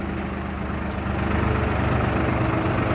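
A Solis 50 tractor with a cab, air conditioning and a front loader idles nearby, a steady low engine rumble with a slight rise partway through.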